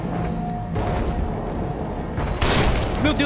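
Gunfire in the horror game The Evil Within: a few heavy booming shots with sharp crashing onsets, spaced irregularly over a dark ambient rumble.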